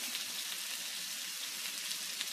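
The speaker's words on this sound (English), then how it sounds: "We're going to go ahead and saute this for a few minutes" Food sautéing in a pan for a Philly cheese steak pizza topping, a steady soft hiss and crackle of frying, faint and continuous with no talk.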